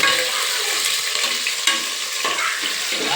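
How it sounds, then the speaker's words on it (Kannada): Ingredients for mushroom pulao fry in a pan toward golden brown, a dense continuous sizzle close by with a few sharper stirring scrapes and knocks. "ಸ್ವಲ್ಪ ಗೋಲ್ಡನ್ ಬ್ರೌನ್ ಬರೋವರೆಗೂ ಫ್ರೈ ಮಾಡ್ಕೊಳ್ಳಿ."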